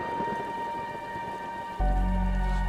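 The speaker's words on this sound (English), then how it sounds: "A heavy wave of rain rushes to the earth." Heavy rain pours down in the video game Crimson Spires, a steady hiss beneath sustained musical tones, with a deep low rumble swelling in toward the end.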